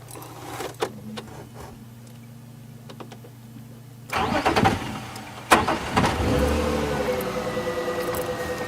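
A car engine cranks and turns over partway through, then settles into a steady close idle after a quiet stretch of faint clicks, on a sunset game drive at Djuma, Africa.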